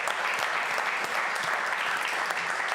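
A room full of people gives a steady round of applause for event sponsors at an experience-marketing awards ceremony, even and unbroken from start to finish.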